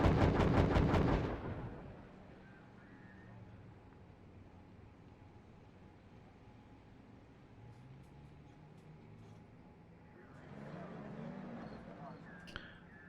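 Artillery bombardment in the WW2 real-time strategy game Steel Division 2, Soviet campaign at Tiraspol: a quick burst of loud, rapid booms for about a second and a half, then a long quiet stretch with faint low rumbling and a soft voice.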